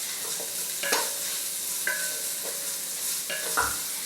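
Garlic sizzles in a pan as it fries for Punjabi dal makhani. A steady hiss runs throughout, broken by several sharp clinks and scrapes of stirring, and there is no talking.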